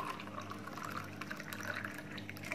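Warm water, not boiled, is poured into a cup, giving a soft, faint, continuous trickle close by for a couple of seconds.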